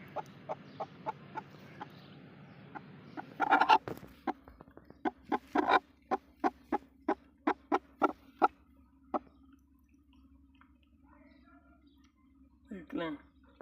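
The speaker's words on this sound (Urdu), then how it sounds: "یہ کالا مرغی ہے" A black hen clucks in a steady run of short, sharp, evenly spaced calls, close and fairly loud, after an opening stretch of rhythmic softer clucks; a low hum runs underneath and someone talks nearby.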